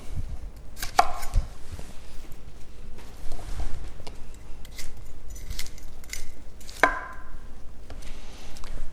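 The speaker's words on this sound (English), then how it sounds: "maybe just cut out a little bit more of the stalk there, so we don't get any big, huge pieces" A kitchen knife cuts through cauliflower and broccoli stalks, with sharp intermittent chops and crunches against a cutting board at close range, irregularly spaced, with no talking.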